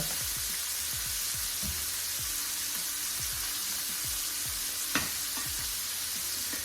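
Shrimp (gambas) sizzling gently in a pan as they are turned before a whisky flambé, a soft, even frying hiss with low rumbling undertones and one sharp clatter partway through.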